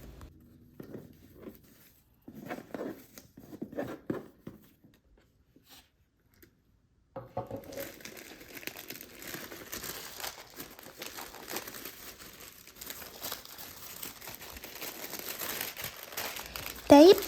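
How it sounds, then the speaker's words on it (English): Paper crinkles and rustles as an orange Hermès gift box tied with a green ribbon is unwrapped and opened, soft crumpling and tearing close by, with quiet talk in the earlier part and busier handling noises later. "So let's open the box."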